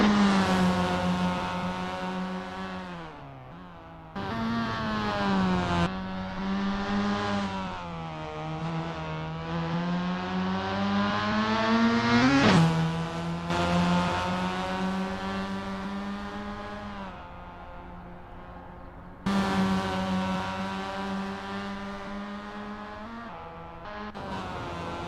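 A Formula Mazda race car engine howls around Zandvoort in the Assetto Corsa racing game, revving high and loud with repeated sharp gear shifts and drops, the pitch rising and falling through corners without any talk.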